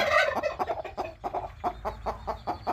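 Turkey gobbling on a country chicken farm, a rapid rattling series of loud, close gobbles repeating in quick bursts, with no talking over it.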